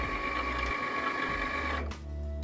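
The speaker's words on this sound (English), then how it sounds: "I'm gonna hit the Cricut button. It's gonna read it" A Cricut cutting machine reads cut lines on a sheet, giving a steady mechanical whir with tonal motor hum close by, shifting pitch abruptly near the end as the carriage changes movement.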